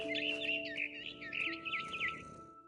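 In the game What Remains of Edith Finch, a bird chirps in a quick, continuous run of high warbling tweets, fairly close and clear over a faint steady tonal hum.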